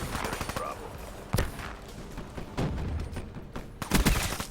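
Video game gunfire, with shots striking in the opening stretch, then loud single reports at about 1.4, 2.6 and 4 seconds over a busy game mix of ambience.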